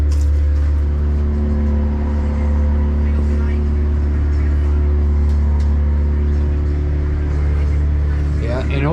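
Fuel-injected outboard motor running on a 2023 North River Seahawk 2900 boat, a loud, steady low drone that holds throughout, with a brief rising whine near the end.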